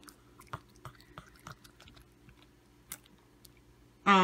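A child chews a treat with soft, irregular crunching and smacking bites, fairly close, with a louder burst at the very end.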